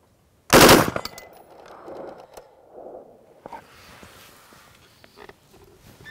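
Three rapid gunshots fire at a shooting range over a Garmin Xero C1 chronograph, a loud sharp burst at the start that quickly decays, followed by quieter handling noises and faint movements.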